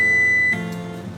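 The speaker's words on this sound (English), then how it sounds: "Sorry about the beeping sound." A single high electronic beep from an oven sounds for about half a second, then stops, leaving a quiet hum.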